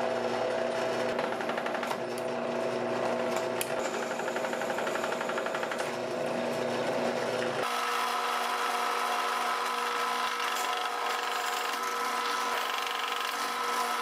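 Power drill boring 1/4 inch holes through a metal bar, a steady close whine that shifts to a different tone partway through, heard alone.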